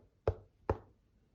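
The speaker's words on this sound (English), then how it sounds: "Stepping forward, she knocked at the boy's door." Two firm knocks on a wooden door, spaced about half a second apart, each a sharp, close thud that decays quickly against a quiet background.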